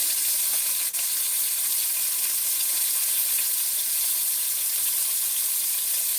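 Beef chunks brown in a stew pot with a steady, close, bright sizzle and hiss that runs on evenly with no voices.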